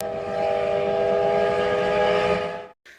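A train in the Japanese film Survival Family (2016) sounds a steady, loud, whistle-like tone over a low rumble for nearly three seconds before it cuts off abruptly, leaving a brief faint tail.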